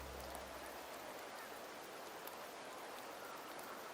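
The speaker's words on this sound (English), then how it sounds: "The rains in Septimont never seem eager to leave this season." Rain falls steadily in Septimont in the Wuthering Waves video game, a soft, constant, even hiss with no voices over it.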